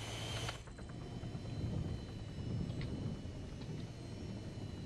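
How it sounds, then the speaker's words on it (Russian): Helicopter in Arma 3, a steady whirring rotor and engine drone heard from inside the cockpit at moderate volume, holding evenly throughout. "А, вертушка."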